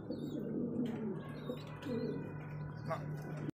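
Racing pigeons cooing in a loft, soft repeated low coos close by with a few faint chirps and a brief flutter, a low steady hum beneath.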